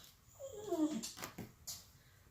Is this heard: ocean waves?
no